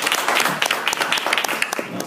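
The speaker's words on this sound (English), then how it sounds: "if we could all give Karina a round of applause for arranging this entire event" Brief audience applause at a college candidate forum, scattered clapping from a modest crowd lasting a couple of seconds, with some voices mixed in.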